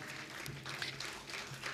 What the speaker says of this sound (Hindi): एक बार जोरदार तालियां आपकी तरफ से